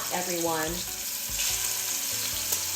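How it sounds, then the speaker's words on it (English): Beef short ribs fry in a hot pan for kare kare, giving a steady close crackling sizzle throughout, with a brief spoken word and some faint tonal sound in the background. "So we're gonna fry each side until there's a crust that's formed. Listen to the sizzle."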